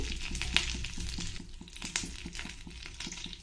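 Curry leaves and dried red chillies frying in a pan of hot oil give a close, steady crackling sizzle with small pops and a few utensil scrapes throughout.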